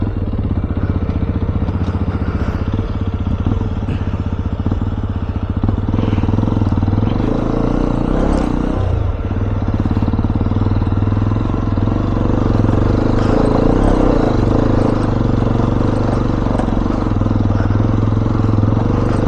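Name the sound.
Hero XPulse 210 motorcycle riding off-road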